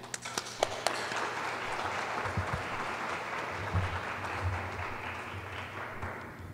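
An audience welcomes a speaker at a lecture on alcoholism with steady, sustained applause, a few sharp claps standing out at the start before the clapping holds evenly and fades near the end.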